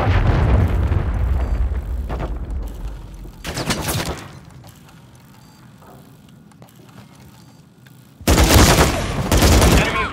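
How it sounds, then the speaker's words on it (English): A cruise missile strike in Call of Duty Warzone: a heavy rumbling blast opens, a second burst of explosive noise hits midway, then a loud, sharp detonation roars near the end after a quieter stretch. "missiles launch the cruise missile."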